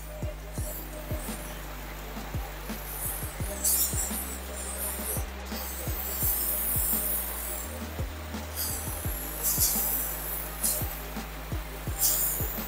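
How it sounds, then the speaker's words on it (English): Several short bursts of WD-40 aerosol spray hiss, spaced a few seconds apart, over a steady low hum and scattered clicks. "Spray some WD-40 on here on the surface, get a good heavy coat on there."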